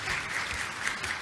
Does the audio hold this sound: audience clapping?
yes